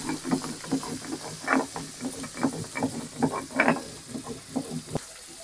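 Pieces of eggplant fry in oil, crackling and popping in quick irregular bursts over a soft steady sizzle, close and fairly quiet.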